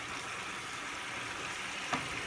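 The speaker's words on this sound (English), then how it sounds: "so we are going to saute this" Chili garlic paste sautéing in a hot pan, a continuous dense sizzle with one small pop, close and steady.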